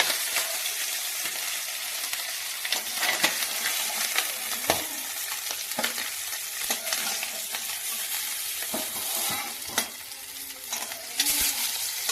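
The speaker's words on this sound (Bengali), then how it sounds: "এখন এই যে বাদ বাকি মাছগুলো খুব ভালোভাবে ভেজে নেব।" The remaining hilsa fish pieces fry in a pan with a continuous close sizzle, broken by repeated sharp clinks and scrapes of a spatula over about twelve seconds, with no voices.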